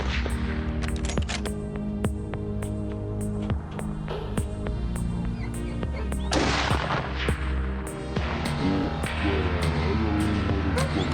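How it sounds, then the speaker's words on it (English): Repeated sharp gunshots in a video game, fired at a wild boar monster, crack out in rapid bursts over a continuous droning background, loud and close throughout. "A rapid burst of gunfire completely cut off the boar's escape route."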